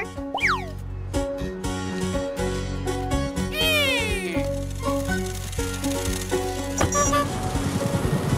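Kitten meows in the PAW Patrol World video game, a few clear cartoonish mews over bouncy game music and sound effects, including a springy boing.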